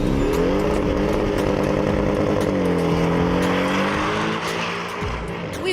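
A Porsche 718 sports car engine, Boxster or Cayman GTS, revving loudly and close, its pitch sweeping up and settling into a sustained roar that dips briefly near the end, with no talk over it.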